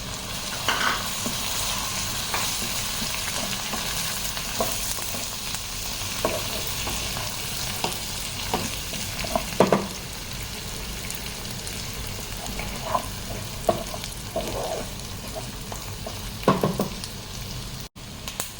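Curry leaves dropped into fish masala frying in a pan for a spiced fish dish, giving a steady close sizzle with scattered crackles, pops and stirring scrapes throughout, no voices.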